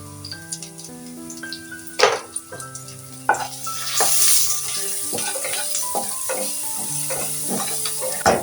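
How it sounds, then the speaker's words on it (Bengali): Onions frying in a pan with turmeric: a steady sizzle runs throughout, broken by sharp stirring scrapes and clatter near 2 and 3.3 seconds, with a faint tonal hum underneath. "পেঁয়াজটা কিন্তু ভাজা হয়ে গেছে ভাজা হয়ে গেছে"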